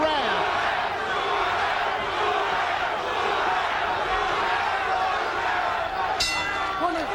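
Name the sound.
boxing crowd chanting for Duran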